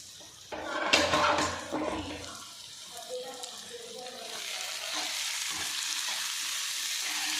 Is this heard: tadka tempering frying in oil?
yes